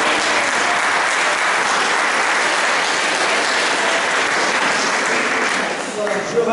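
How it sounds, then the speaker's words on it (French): A congregation at a Saint Nicolas pardon Mass claps for itself in a chapel, a full, even burst of applause that holds steady before tapering off in the final moment. "nous avons le droit de nous applaudir."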